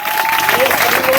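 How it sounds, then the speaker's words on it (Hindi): A crowd claps loudly and continuously for a girl who has just finished speaking in a debate contest, with a faint thin whistling tone running under the applause throughout. "ताली जोरदार बजनी चाहिए।"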